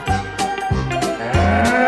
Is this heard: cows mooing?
yes